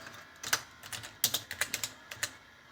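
Quick, uneven keystrokes on a computer keyboard, a dozen or so sharp clicks in bursts with brief pauses, close and fairly quiet with no voice.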